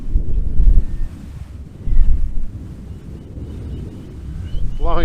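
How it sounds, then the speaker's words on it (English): Strong gale-force wind buffeting the microphone beside a squaredrop camper, with loud rumbling gusts rising and falling throughout and no voices. "Extremely windy here at the moment,"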